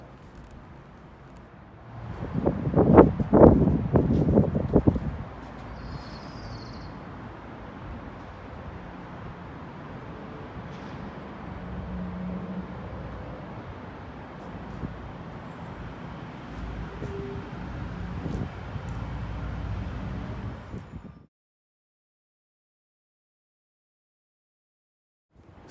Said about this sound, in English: it's a little windy up here, so high up on a hill